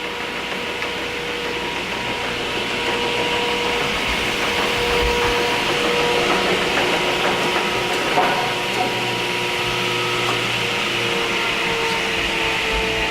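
Diehl No. 55 straight line rip saw running at high speed, a steady mechanical hum and whir with faint rattles, continuous and fairly close.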